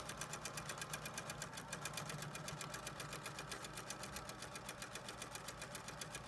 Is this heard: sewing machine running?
yes